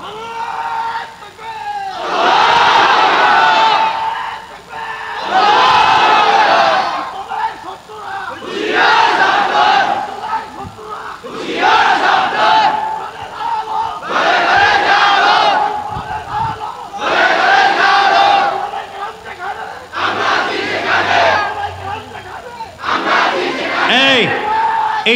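A large outdoor crowd at a religious gathering in the rain shouts a takbir chant in repeated loud collective bursts, roughly every few seconds, with brief pauses between.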